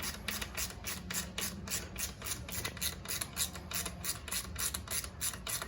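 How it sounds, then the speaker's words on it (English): Screws are driven in by hand with a steady, rhythmic ratcheting and rubbing, repeated turn after turn at close range with no talking. "We'll screw them in."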